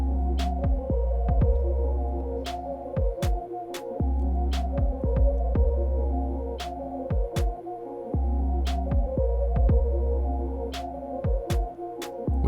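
Babyliss FX hair clippers blend a fade, giving a close, steady electric motor buzz that pulses and shifts in pitch as they move through the hair, with no talking.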